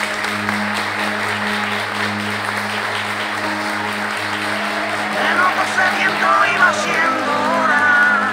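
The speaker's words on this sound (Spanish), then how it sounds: "Hay un fuerte aplauso" Wedding guests give loud, sustained applause, a broad wash of clapping over a steady tonal hum, swelling louder toward the end while voices carry underneath.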